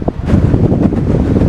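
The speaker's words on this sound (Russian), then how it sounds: "Много ветра." Strong wind on a gulf at sunset, heard as loud, continuous, gusty rumbling buffeting the microphone, with no talking.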